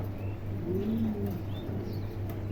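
Show-quality pigeons coo softly, a couple of low rounded calls rising over a steady background hum, with faint chirps further off.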